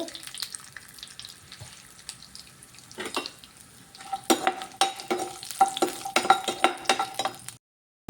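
Cashews, ginger and garlic fry in a pan for chicken masala, starting with quiet scraping and stirring, then louder crackling sizzle and clattering spoon strokes toward the end.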